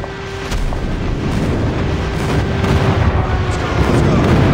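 Airstrike explosions in Call of Duty Mobile, a loud sustained rumbling barrage of blasts and booming impacts that builds and rolls without pause, with distant gunfire mixed in.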